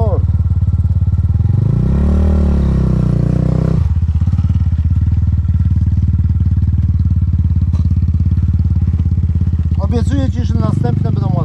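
An enduro motorcycle engine rumbles loudly up close, revving and then settling into a steady drone as the bike rides off in second gear, with a voice briefly over the noise.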